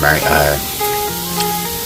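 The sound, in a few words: chicken sizzling in skillet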